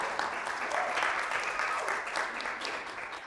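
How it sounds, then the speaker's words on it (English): Audience applause for the speakers at an environmental justice event, a steady wash of many hands clapping throughout at moderate level, with no voices over it. "So give our speakers a round of applause"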